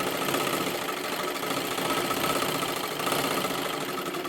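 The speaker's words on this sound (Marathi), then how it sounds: "एकदम कडेकडेला व्यवस्थित आणि सावका शिलाई करून घ्यायचा आहे" A sewing machine runs steadily, stitching carefully along the edges of silky fabric, its motor a continuous close mechanical whir with no pauses.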